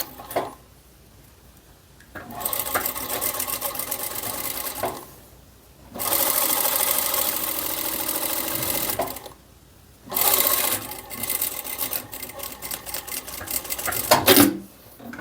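A sewing machine stitches bias binding onto a knit blouse with a high collar, running in three loud, steady bursts of a few seconds each, separated by short quiet pauses.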